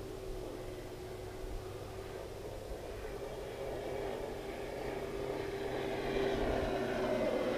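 An E-flite Carbon Z T-28 RC airplane flies overhead above a grass field, its steady electric motor whine holding a sustained tone that gradually swells louder as it nears, with no talking.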